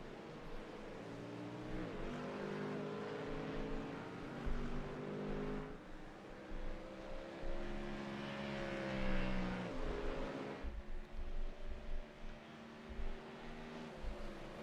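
Race cars lap Silverstone in a sim racing game, with a Mustang in the field; steady engine drone with rising and falling pitch sweeps as cars pass and shift, continuous and fairly loud throughout.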